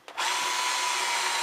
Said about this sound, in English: Right, I'll drill another one next door.